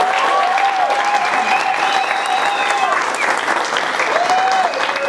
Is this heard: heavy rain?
no